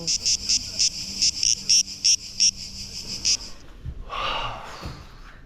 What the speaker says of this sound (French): C'est la cigale!